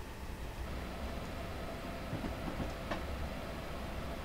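An Amtrak Silver Meteor passenger train with baggage car, Viewliner coaches and diner runs in Train Simulator 2019. It gives a steady rumbling roar with faint rail clicks, unbroken and without talk.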